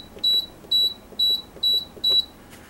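A Midea Desea 14-place dishwasher gives five short, evenly spaced electronic beeps as it is switched on, clear and close in a quiet room.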